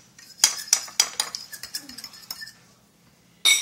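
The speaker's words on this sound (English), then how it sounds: "I'm gonna mix this all ingredients together" Metal utensil clinking and scraping against a bowl while mixing ingredients for Lao baked eggs, a run of close, sharp taps and stirs fading out, then one more clink at the end.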